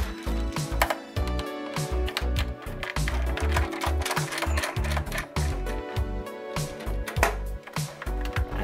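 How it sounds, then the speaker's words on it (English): Phillips screwdriver backing screws out of an Atari Lynx handheld console casing; dense, continuous clicking and mechanical rattling throughout, close and fairly loud, with no talking. "you just gotta come in with a Phillips screwdriver and just take out these four screws"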